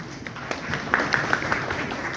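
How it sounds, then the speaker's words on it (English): Light applause from an audience as a man is invited onstage at a corporate property event, a few distinct claps over a soft murmuring crowd. "A round of applause for Sainath please."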